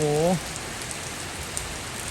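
Steady rain in a storm, a broad continuous hiss of heavy rain on surfaces, with a voice speaking briefly over it at the very start before the downpour carries on alone.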